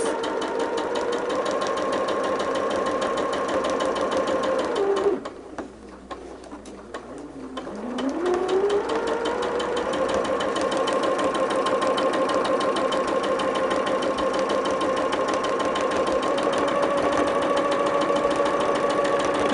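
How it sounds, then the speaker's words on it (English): Sewing machine with a standard presser foot stitching long straight lines of fabric, a steady mechanical whirring chatter running near and loud, broken by a short pause midway before the needle picks back up at full speed. "with this standard foot that I have on the machine, you're sewing longer straight lines, it works really well"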